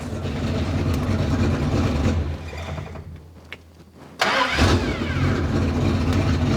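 A Dodge Dart with a V8 and four-speed, fitted with nitrous, idles with a loud lumpy rumble, shuts down briefly, then fires up fast again with a sharp catch and a rough, close-up idle.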